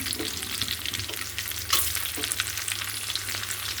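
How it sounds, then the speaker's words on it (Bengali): Capsicum and whole cumin seeds frying in a pan while being stirred, a steady close sizzle with scraping stir strokes and no talking. "ক্যাপসিকাম দিয়ে একটু সামান্য নেড়ে দিতে হবে।"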